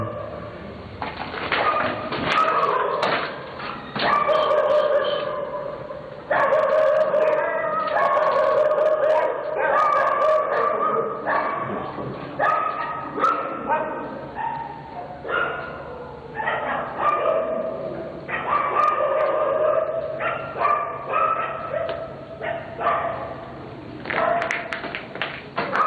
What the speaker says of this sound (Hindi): सुन रहे किसी को देख के भौंक रहे हैं जो हमें नजर नहीं आ रही